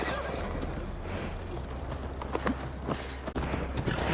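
A horse in the video game Assassin's Creed Valhalla, clopping hooves in a steady rhythm with snorts and whinnies rising above, close and fairly loud over low background rumble.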